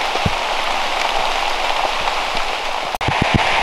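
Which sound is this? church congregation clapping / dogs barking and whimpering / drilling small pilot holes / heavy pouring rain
heavy pouring rain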